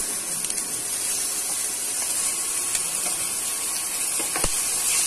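Roughly chopped onion hits hot oil with whole spices such as green cardamom in a kadai for kadai paneer, making a loud, steady hiss and sizzle with a few faint clicks, no talking.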